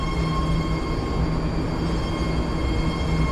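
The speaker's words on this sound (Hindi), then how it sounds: "एक बार कैमरा ऑन करके आपको दिखाते भी हैं कैसी लगती है मेट्रो ऐसी लगती है" Metro train in San Francisco bound for Millbrae rolling along its rails, heard from inside the car as a steady, loud, continuous rumble and hum with no breaks and no talking.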